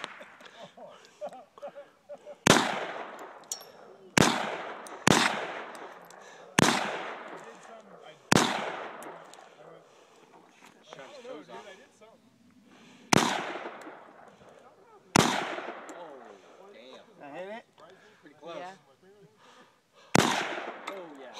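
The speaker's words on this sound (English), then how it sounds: "Shoot five at that can and five over there." Nine sharp, loud AR-15 rifle shots are fired at a can in the Los Padres National Forest, spaced irregularly a second or more apart. Each crack is followed by a long rolling echo, and quiet voices are heard between some shots.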